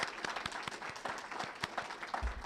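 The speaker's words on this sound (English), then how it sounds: "Please join me in giving her another round of applause." A crowd applauds steadily, a dense patter of many hands clapping together at moderate volume.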